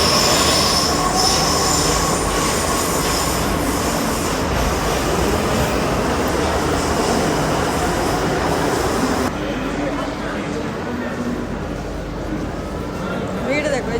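A crowded Delhi Metro train, loud and close, with wheels squealing on the rails over a continuous heavy rumble that drops somewhat toward the end as the train slows.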